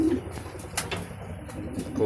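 A sick pigeon with swollen feet, kept in a breeding room, coos softly and repeatedly at close range, with a few faint chirps and light rustles.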